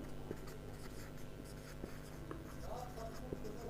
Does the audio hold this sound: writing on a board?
yes